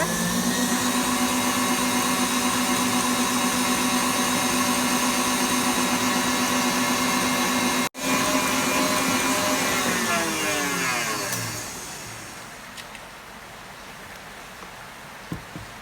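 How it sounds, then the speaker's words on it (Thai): An electric mixer beats butter at medium speed for a fruit jam roll sponge, a steady, loud motor whir holding for about eleven seconds before winding down and stopping, leaving quiet room tone. "ตีความเร็วปานกลางค่ะให้เนยเข้ากันดีนะคะ"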